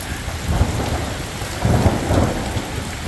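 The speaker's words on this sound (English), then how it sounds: "It is still raining pretty good. Got a little thunder and lightning going on." Steady heavy rain pours down during an autumn storm, with low rumbles of thunder swelling twice beneath the constant hiss of the downpour.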